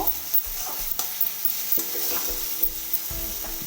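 Pumpkin curry with spices and salt is stirred in a pan over soft frying. Quick scraping and clinking strokes repeat close by above a low sizzle, with no voices.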